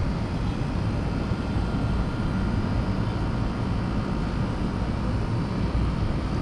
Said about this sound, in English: See the airplanes taking off.